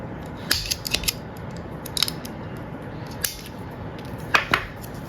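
Scissors snip close by at a nail-design workstation, a handful of short crisp cuts spaced irregularly over faint background hiss.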